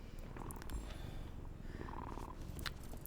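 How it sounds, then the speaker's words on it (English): A cat being petted in Dragon Age: The Veilguard purrs steadily and softly for a few seconds, a low continuous rumbling with faint background sound and no talk. "quickly had to pet the kitty"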